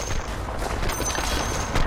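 A dense, continuous crackle of rifle fire from the Sniper hero in Dota 2 rings out loudly over battle noise for a couple of seconds.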